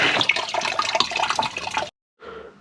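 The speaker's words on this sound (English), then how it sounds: "water coming out." Coolant water gushes steadily from a detached Subaru SF5 Forester radiator hose into a large tub, a loud, close splashing pour that cuts off abruptly, then a quieter trickle resumes.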